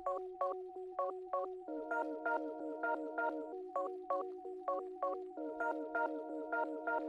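A repeating plucked melody in an ethereal trap beat made in FL Studio, filtered with EQ so both low and high end are cut, giving a thin midrange tone; steady rhythmic notes play alone throughout.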